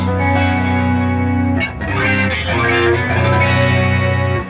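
Electric guitar with a lush, shimmering chorus effect, sustained chords ringing out with a brief strum change midway, played alone.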